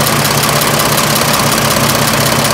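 An old car engine, back running after 75 years, idles steadily with a fan spinning, giving a continuous rough mechanical drone with a faint knocking rhythm, loud and close throughout.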